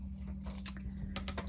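Rotary cutter slicing a 2.5 inch fabric square into 1 inch strips on a cutting mat, heard as a few short, quiet crisp bursts over a steady low hum, with no talking.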